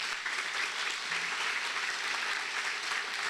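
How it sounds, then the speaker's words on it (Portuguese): A church congregation claps hard for the Lord during a Portuguese-language worship sermon. Dense, sustained applause from many hands fills the room at a steady level for several seconds. "Aplauda bem forte ao Senhor"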